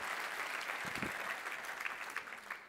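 An audience at a tech conference keynote applauds, a dense patter of clapping that stays steady and then thins toward the end, with no speech over it.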